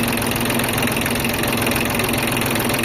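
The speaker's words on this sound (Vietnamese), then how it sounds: "Wow, động cơ đã quá." A Kubota or Yanmar farm tractor's diesel engine runs steadily and loudly close by, a dense, even chugging rumble with no pauses and no voices.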